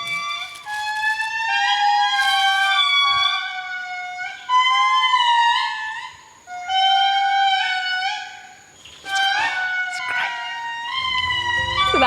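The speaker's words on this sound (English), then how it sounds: "the noise is just this erratic alarm bark" A lemur troop gives an erratic alarm bark, a chorus of loud, overlapping, wailing, siren-like calls that rise and fall in uneven bursts with short gaps between them.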